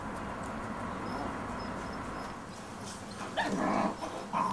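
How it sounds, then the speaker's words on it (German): Wolf puppies tussle over a piece of deer meat, their snarls and growls rising into sharper, louder outbursts near the end over a low, continuous background. "Die Welpen streiten sich, eng zusammengerückt um ein Stück Reh."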